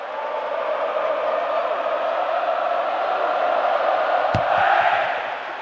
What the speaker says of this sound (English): the crowd audio has been upgraded significantly, featuring recognisable chants